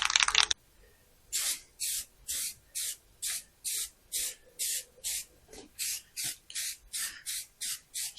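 Gray filler primer sprays from an aerosol can in about a dozen short, hissing bursts with even rhythm and brief pauses between them, close and fairly loud, after an opening rattle of the can.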